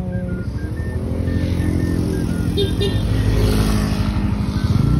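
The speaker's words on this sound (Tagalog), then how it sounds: "Ito talaga ng motor ko guys" A motorcycle engine runs steadily close by, a low throbbing drone with a slight rise in revs toward the end.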